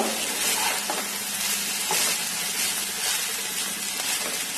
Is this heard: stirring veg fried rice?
yes